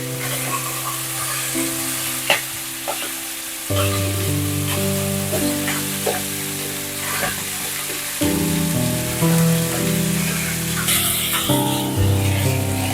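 Chicken pieces frying in a pan for a peanut butter chicken sauce, a continuous loud sizzle with crackles and spatter, plus occasional stirring scrapes, with no talking.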